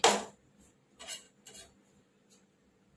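Metal clatter of a spatula flipping a vegetable-stuffed roti on a nonstick pan, one sharp clank at the start and then a few lighter scrapes and taps spaced through a quiet kitchen.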